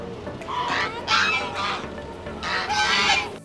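Ducks at a roadside dhaba, eating chapati, give loud, nasal, honking quacks close by in several bursts, with short pauses between calls.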